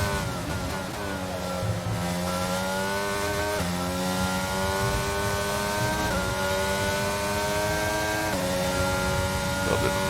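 Simulated F1 race car engines roaring in the F1 22 game at the Italy circuit, a loud continuous high-revving whine that climbs in pitch and drops sharply at gear shifts, several cars running together with no voices.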